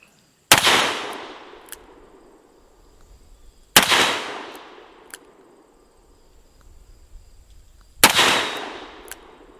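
Ruger GP100 .357 Magnum revolver firing 125 grain jacketed hollow point full power loads outdoors: three loud, sharp shots spaced a few seconds apart, each with a ringing decay, with faint metallic target pings after them.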